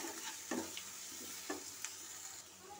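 A cumin and mustard seed paste is stirred into fish masala frying in a pan for a silver carp and potato curry. It makes a soft, steady sizzle with scattered scraping taps from the spoon, fairly faint.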